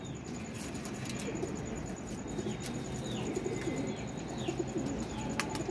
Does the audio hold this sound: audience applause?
no